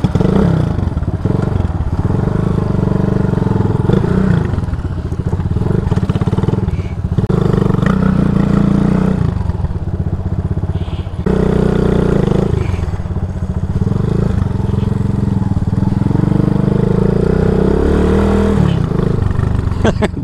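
A 223cc RPS Condor motorcycle engine roars steadily up close on a dirt trail, revving with rising and falling pitch and short drops between pulls, with some rattle and clatter from the bike.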